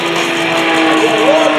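A loud, sustained aerobatic airplane engine roar at an airshow, with a steady droning tone that rises slightly in pitch toward the end during a slow roll, heard continuously without pause.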